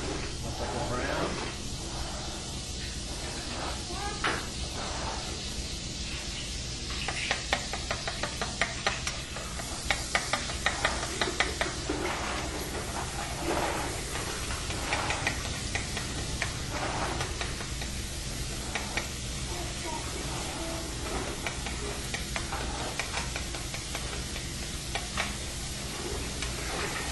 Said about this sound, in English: First I'm going to throw in it is some garlic